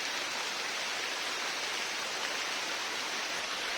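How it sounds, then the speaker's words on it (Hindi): Heavy rain pouring down in a forest, a dense, even hiss that fills the whole short stretch at steady strength, close and unbroken, with no voices. "तो अभी बारिश कर रहा है यार"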